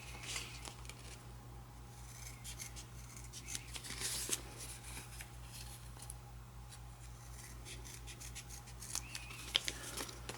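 Scissors snipping and rounding the ends of kinesio tape during ankle taping, with faint crisp cuts and light rustling of tape over a steady low electrical hum, close by with no talking.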